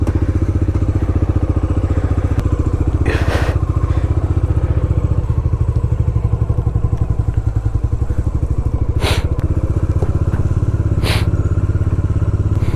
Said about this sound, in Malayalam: ബൈക്ക് ഇപ്പോൾ സ്വയം ഓഫായിക്കൊണ്ടിരിക്കുക